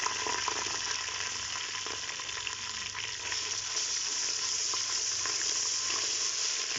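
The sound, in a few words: onions, ginger and garlic frying and being stirred in a pot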